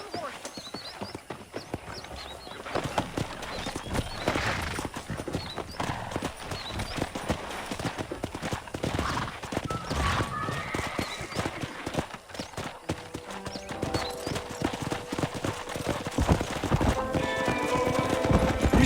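Horse hooves clop steadily in the Western video game Red Dead Redemption during a wrangling task, with occasional neighs and whinnies, layered over ambient game sound and some speech.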